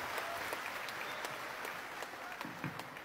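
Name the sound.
applause for Aida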